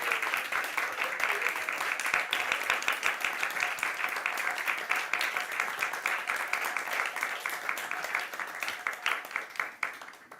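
An audience at a spiritual lecture on Krishna applauds with steady, sustained clapping from many hands, loud and even throughout before thinning slightly at the end.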